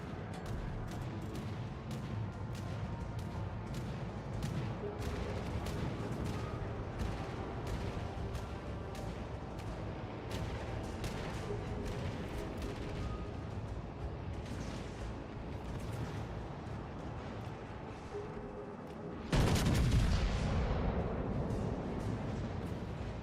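Dense, continuous video game gunfire aimed at a mountain: rapid crackling shots stream steadily for a long stretch, then a much louder blast erupts near the end and lingers, with no voices.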